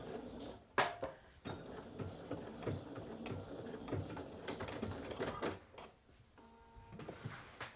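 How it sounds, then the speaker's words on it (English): A sewing machine stitches a skirt seam at 1/2 inch with backstitching, giving short irregular bursts of rapid mechanical clatter with pauses and handling knocks, faint and close. "we're going to sew at 1/2 inch from one folded edge to the other. and I'm back stitching at the beginning and end"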